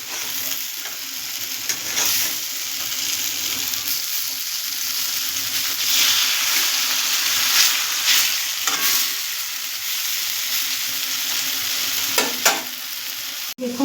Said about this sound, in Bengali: দেখুন বড়াগুলো আমরা তেলে ছেড়ে দিয়েছি, আমাদের এক পিঠ ভাজা ভাজা হয়ে এসছে